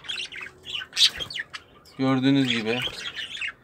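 A pet budgerigar gives a close, harsh squawking call lasting about a second, after someone speaks briefly in Turkish; chirpy bird noises mix with her voice earlier.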